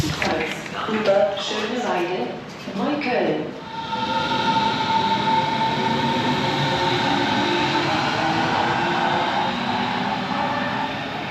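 Interior ride on a Berlin train, a steady broadband rumble and rush of the carriage running continuously and fairly loud, with muffled voices and brief clatter early on before the noise settles into an even hum.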